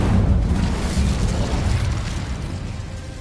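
An Incendio fire spell cast in Hogwarts Legacy, a loud booming burst of roaring flame that hits at once and then slowly fades into a sustained rumble.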